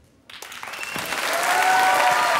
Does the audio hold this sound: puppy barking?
no